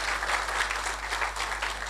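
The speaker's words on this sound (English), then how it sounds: "Let's give all our past presidents another big round of applause" An audience at an engineering association gathering gives a round of applause for its past presidents, steady and moderately loud clapping over a constant low electrical hum.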